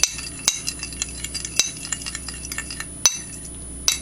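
A utensil whisks scrambled eggs in a bowl, a green-tinted mix: quick soft scraping and tapping with sharp clinks of metal on the rim about every second or so, close up and with no voices.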